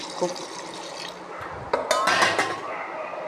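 Water poured from a vessel into a soup pot of vegetables in a home kitchen, a short splashing rush with clinks of metal cookware, close and fairly loud.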